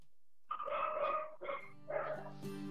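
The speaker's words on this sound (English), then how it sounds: "That is one of Rashawn Gordon's dogs" A hunting dog barks nearby, giving three quick, moderately loud barks with brief pauses between them, heard alone with no talk.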